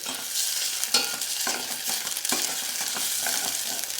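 Ginger paste frying in a pan and being stirred, a bright continuous sizzle broken by repeated scraping strokes of a spatula across the pan's bottom, close and with no talking.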